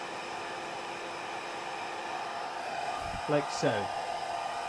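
A handheld hair dryer on a single speed blows a steady, close whooshing hiss over a leather lounge repair, with a couple of brief spoken words partway through.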